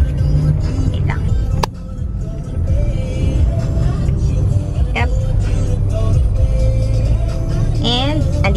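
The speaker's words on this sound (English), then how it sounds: "Heavy traffic." Heavy morning road traffic in the Philippines rumbles continuously from inside a vehicle, with engines idling and moving nearby, a few horn-like tones and squeaks, and people talking over the steady drone.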